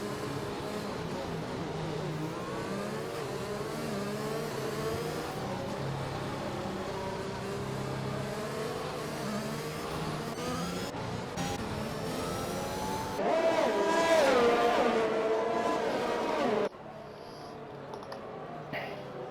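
Race car engines roar continuously in a racing video game at Monza, a dense, steady drone of several cars with pitch sweeps as they rev and shift, growing louder near the end before dropping off.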